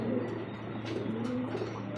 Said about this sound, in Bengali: অসাধারণ এক জোড়া কবুতর